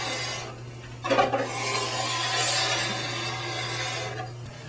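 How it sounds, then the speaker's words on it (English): A hand file base-bevels a ski edge in soft, rasping strokes, with one sharper scrape near the start and a steady low hum underneath. "With every pass, you're taking off a little bit more file, or a little bit more edge with each pass."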